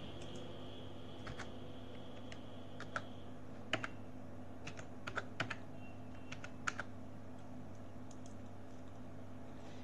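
A computer keyboard is typed on in quiet, uneven bursts of clicking keystrokes with short pauses between them, over a steady low electrical hum.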